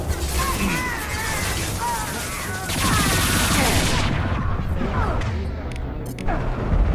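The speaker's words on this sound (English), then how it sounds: "Firing now" Gunfire in the survival video game Rust: a dense, loud burst of shots and impacts runs through the whole stretch, mixed with other game noise and a voice.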